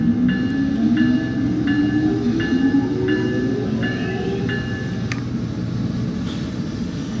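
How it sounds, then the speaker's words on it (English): Electric motors of an Amtrak ACS-64 locomotive in the Train Sim World 2 game: a loud, steady rising whine that climbs in pitch over a constant rumbling rail drone, with faint periodic beeps, and no voices. "I quite like the sound of the motors in the ACS-64."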